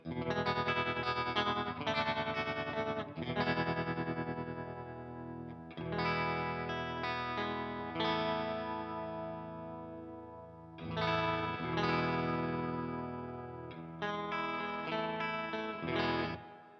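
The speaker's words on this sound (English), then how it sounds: "being a tremolo, what it's doing is it's adjusting the volume of the signal" Electric guitar chords ring out through a Walrus Audio Fundamental Series tremolo pedal, volume wavering up and down over sustained strums, loud and close with no talking.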